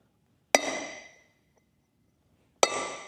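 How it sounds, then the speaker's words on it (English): Two sharp metallic hammer strikes on a socket used to drive a wheel bearing race into a 1996 Ford F150 hub, each a ringing clang with a short decaying tail, about two seconds apart, close and alone. "Let's give it a good little whack."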